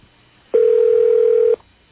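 Single telephone ring tone on a call going through to a hotel voicemail line, one steady electronic tone lasting about a second, loud and close over quiet background.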